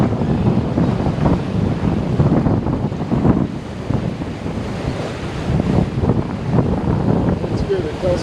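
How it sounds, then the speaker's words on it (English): Offshore sailing between Antigua and Sint Maarten: steady wind buffets the microphone while ocean waves wash and slosh against the hull in a continuous close rush, with brief murmurs of talk. "The waves aren't as big and choppy as they were"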